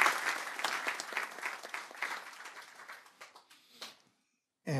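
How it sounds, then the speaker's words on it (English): A meetup audience at a Python talk claps for the event helpers, dense applause that gradually thins out and fades to scattered claps, then silence before a brief noise at the very end. "So maybe a quick round of applause to those people."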